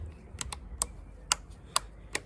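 Handlebar switch buttons on a Benelli TRK 502X motorcycle clicked several times, six or seven crisp, close clicks spaced irregularly over quiet background, no voices.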